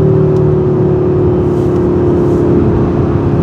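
A new car pulls away smoothly on the road, its engine holding a steady, loud droning hum with a faint rising whir, heard from inside the cabin.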